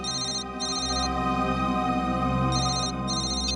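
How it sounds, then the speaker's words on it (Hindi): A mobile phone ringtone plays continuously and loud, a bright repeating electronic melody with a short pattern that restarts about every two seconds, over a steady background tone. "मोबाइल कंपनी से फोन था।"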